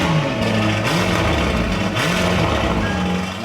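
A Lamborghini Urus, parked for over a year after a crash and now being repaired, runs with a loud, rough exhaust note. The engine rises and falls in pitch in a few revs, close and sustained, with no voices.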